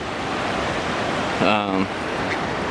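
Broadband rushing water at a Pole Creek crossing in the Wind River Range, a wide backcountry creek, steady and close throughout, with a short voice-like burst in the middle over the flow.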